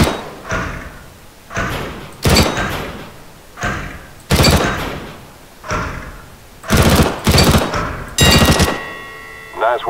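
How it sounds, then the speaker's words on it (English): Gunfire from a weapon in the Counter-Strike: Global Offensive training course, a series of loud heavy shots fired in short separate bursts and single blasts at a steady pace, with no talking. "pick up the weapon and shoot 5 bad guys for me"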